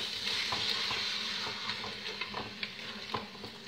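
Chopped onions and tomato stirred in a hot pan for a white-bean tomato sauce: a steady close sizzle with repeated soft scraping strokes of the spoon throughout.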